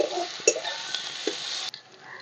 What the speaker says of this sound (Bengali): তেলের মধ্যে দিয়ে দিলাম পেঁয়াজ কুচি